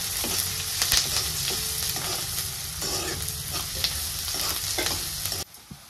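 Onion and curry leaves frying in hot oil, a loud continuous close sizzle with stirring scrapes and occasional crackles, fading abruptly near the end.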